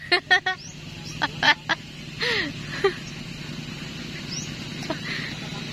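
Ducks on a duck farm quacking in several short, loud bursts near the start, then scattered calls over a steady low background of flock noise and outdoor ambience.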